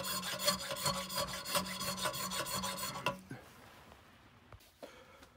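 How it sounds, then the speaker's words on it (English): Metal parts of an infill block plane are filed by hand in a rapid, rhythmic rasping run of strokes close by, then the filing stops and a few faint knocks and handling sounds follow in quiet. "that was a lot of filing, and that's only one half done"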